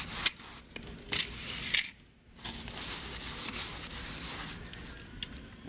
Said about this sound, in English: Just get a good layer of lubricant everywhere.